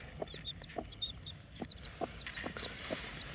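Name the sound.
chicks eating sunflower seeds and broken nuts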